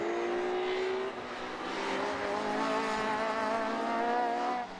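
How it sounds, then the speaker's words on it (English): Alfa Romeo race cars in the Class A1 fight at Rockingham circuit, engines howling and shifting pitch as they pass close together, loud and continuous. "the two cars we're looking at here battling for Class A1 honours"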